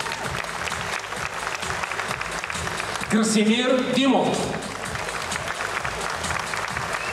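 Sustained audience applause at a gala event in Varna, steady dense clapping throughout, with a man announcing names over it partway through.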